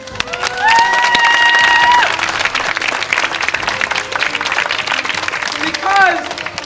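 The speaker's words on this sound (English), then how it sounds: "I want a round of applause for all of us" A public crowd breaks into loud applause and cheering, with whistles and shouting voices rising over sustained clapping and a second surge of whoops near the end.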